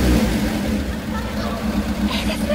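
A Toyota AE86 Corolla engine, fitted with North American Corolla GT-S parts, runs close by with a steady mid-pitched rumble and a slight rise in revs, while a voice talks over it.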